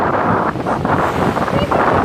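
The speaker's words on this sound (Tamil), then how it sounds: "கடல் அலையே பாருங்க" Sea waves surge and wash ashore on a Jaffna beach, heard close up under heavy wind buffeting the microphone, with a constant rough rush of noise.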